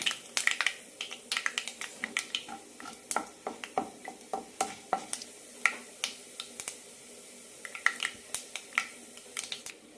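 Mustard seeds and urad dal fry in a pan of hot oil and ghee, giving a close, steady run of sharp crackles and pops at an irregular but busy rhythm, with no voices.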